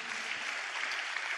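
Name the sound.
congregation applause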